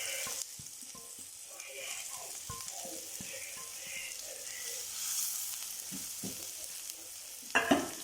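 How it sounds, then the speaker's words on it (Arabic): Chopped onions frying in butter with a little oil in a pan, a faint continuous sizzle with occasional soft stirring scrapes, and a sharper clatter of the utensil near the end. "نقعد بقى ايه نقلب في البصل بتاعنا كده لغايه لما ايه يدبل"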